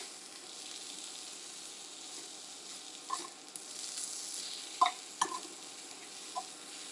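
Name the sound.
crab cakes sizzling as they are turned in a pan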